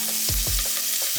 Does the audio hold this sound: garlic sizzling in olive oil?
yes